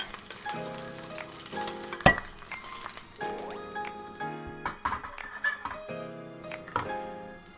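Eggs dropped into a hot pan for huevos rancheros, giving a steady close sizzle with clinks and knocks of utensils against the pan.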